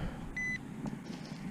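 A short, thin metal detector beep sounds once, faint over a low background hum, followed by softer fluttering tones, from a target right at the surface.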